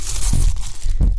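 Plastic bag rustled up close in two short crinkly bursts, the second slightly louder, with no talk over it.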